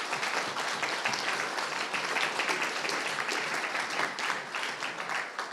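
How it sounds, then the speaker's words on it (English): A conference audience at the Davos 2026 meeting breaks into steady, dense applause, many hands clapping continuously and evenly throughout. "So a big applause, please,"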